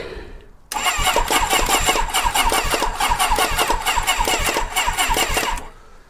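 A Kawasaki ZXR750 motorcycle engine, running off a jump starter because its battery is flat, cranks over close and loud in a rapid, even pulsing chug for about five seconds before cutting off.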